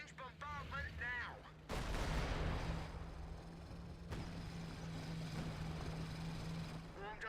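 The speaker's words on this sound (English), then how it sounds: "Firing long-range bombardment now." Long-range artillery bombardment in the game Zomboid, heard as a heavy sustained roar of blasts and rumble that kicks in abruptly and continues loud, with a short voice at the start and a steady hum underneath.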